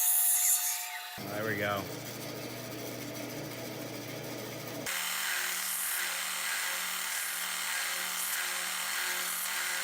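Power tool cutting out a dive bib for a wooden glide bait made from a 2x4, a steady loud whine running several seconds after a brief spoken remark and a short rough rasp.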